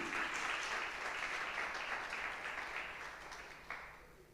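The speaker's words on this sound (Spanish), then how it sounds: "Denle un fuerte aplauso a Jesús, porque esto es así." A church congregation claps in loud sustained applause during a sermon, the dense clapping holding strong before tapering slightly toward the end with one sharper clap near the close.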